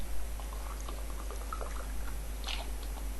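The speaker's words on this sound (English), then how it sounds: "Just take some water." Drinking water being poured, a faint, close trickle with small splashy bursts over a steady low hum.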